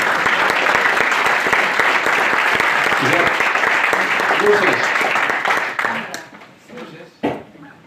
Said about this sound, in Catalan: També un aplaudiment per l'Artur Montcalvo.